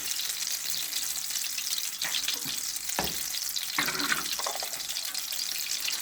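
Butter sizzling and starting to burn in a frying pan, a steady close crackle and hiss with a few sharp pops and scraping stirs partway through.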